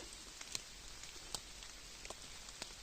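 Rain falls in a Carpathian forest in wet weather, a soft steady patter with a few sharper drops landing close by, quiet and alone.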